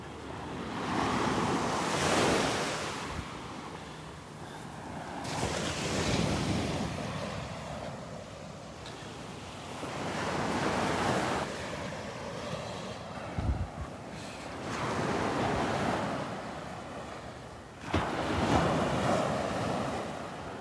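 Ocean surf rolls onto the beach at Delnor-Wiggins, with several long swells of breaking waves rising and fading over about twenty seconds, mixed with gusty wind buffeting the microphone.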